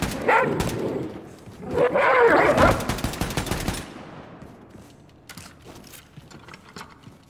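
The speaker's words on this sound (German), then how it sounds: "die Hunde, die sind ziemlich aggressiv" Aggressive dogs in the shooter game Wolfenstein 2, with rough snarling bursts mixed into rapid mechanical gunfire clatter, loud at first and then fading to sparse clicks and thuds.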